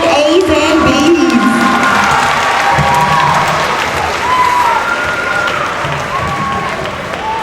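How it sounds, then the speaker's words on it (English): A crowd at a Woodstation Elementary School Renaissance award ceremony for 4th graders keeps up steady applause mixed with cheering and children's shouts, loud and dense throughout. "Let's give them a round of applause, our 4th grade A's and B's."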